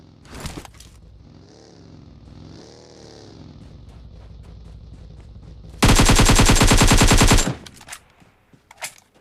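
Rapid automatic gunfire in PUBG on the Livik map, a loud, sustained burst of shots over a rumbling vehicle engine, with a few scattered quieter cracks before and after.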